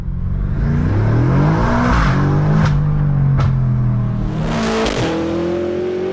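A BMW M5 heard from inside with the windows down, its engine revving hard and climbing in pitch under full acceleration, loud and close throughout, with a brief excited exclamation from the driver.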